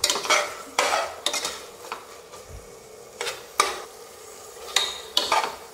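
Biryani masala being stirred and sautéed in a pan, with a soft sizzle under repeated scraping strokes of a spoon at irregular intervals, close up and with no voices.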